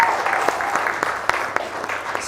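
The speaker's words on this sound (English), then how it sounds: "Round of applause for Joe." Audience applause for a guest named Joe, a light scattering of individual claps, fairly close and sparse, with a faint voice underneath.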